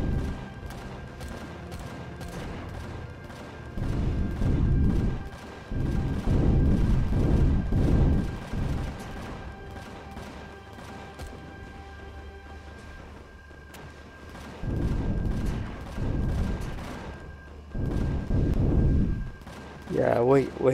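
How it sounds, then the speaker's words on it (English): Enemy artillery fire in the space survival game Empyrion Galactic Survival, with heavy booming blasts and rumbling barrages in bursts across the scene, loud and near, alongside rapid gunfire and sporadic voices. "Oh, they got artillery. We gotta take that artillery out first."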